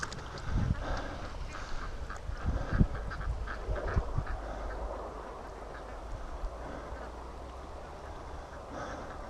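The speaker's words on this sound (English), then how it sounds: "But we got a mess of ducks out here." A flock of ducks quacks on a lake on a hot day, with scattered calls and honks close by over a constant low outdoor rumble.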